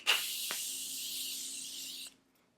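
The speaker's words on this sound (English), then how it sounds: "I'm gonna use the Morphe spray." A Morphe makeup setting spray lets out one continuous close hiss lasting about two seconds and then stops sharply, with a couple of faint clicks from the nozzle.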